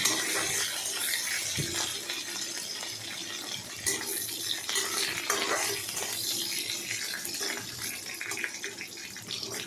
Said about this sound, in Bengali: এদিক ওদিক করে নাড়তে হবে যাতে না পুড়ে যায়